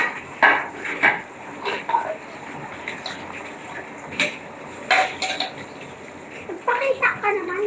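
Plates and cutlery clatter and clink in a string of sharp knocks at a home sink during washing-up, loud and close, with children's voices talking between the clatters.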